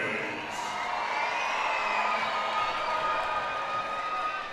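Crowd of fans at an indoor soccer game cheering and whooping in a large arena, a continuous roar that swells slightly then holds, with a voice over a public address system.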